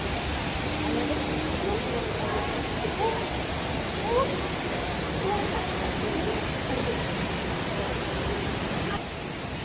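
The indoor waterfall at Changi Airport makes a steady, loud, broadband roar of falling water that stays constant throughout, with faint voices in the background.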